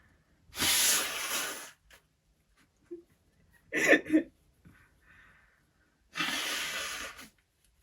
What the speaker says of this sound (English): I was just, like, blowing my nose